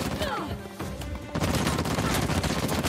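Gunfire in the video game Uncharted: The Lost Legacy, loud bursts and rapid shots that start sparse and turn into a dense, continuous barrage in the second half, with crashes mixed in.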